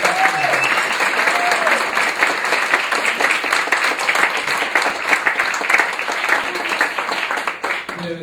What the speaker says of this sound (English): So if we give them a round of applause for this.